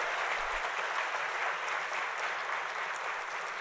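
Steady, dense applause from a large audience at a police academy graduation ceremony fills the hall without a break, loud and sustained throughout.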